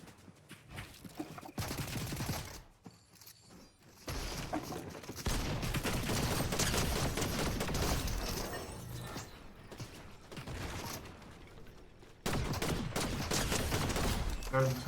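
A video game fires a pistol in several bursts of rapid shots, loud and close. The shooting is broken by short quiet gaps and mixed with game noise.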